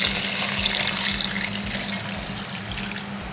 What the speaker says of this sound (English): And then adding in the water.